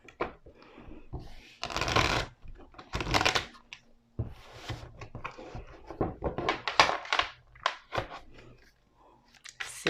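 Tarot cards being shuffled for a reading: bursts of riffling, flapping card noise close up, repeated in uneven rounds with short pauses between, and no talk.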